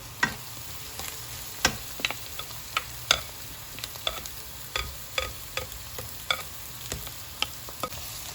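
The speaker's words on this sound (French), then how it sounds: "Et on mélange tranquillement." Grated zucchini being stirred in a pan over onions, with a steady run of sharp scraping clicks roughly every half second against a soft frying sizzle, close and moderately loud.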